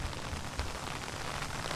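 Tropical rain pours steadily outdoors, a dense hiss of drops with low rumbling noise from close by, continuous and fairly loud with no voices.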